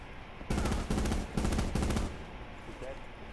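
Bursts of automatic gunfire in the Call of Duty Blackout video game, four loud rapid volleys in quick succession with short gaps between them, then fading to quieter game ambience.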